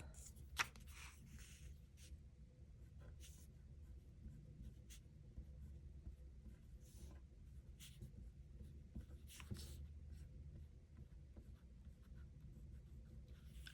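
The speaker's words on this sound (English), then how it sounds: "make another title swatch with a different mild liner. and write in videos to film" Mildliner highlighter pen scratches and swishes across paper in a small pocket traveler's notebook, faint and close, in short intermittent strokes over a quiet room background with no talking.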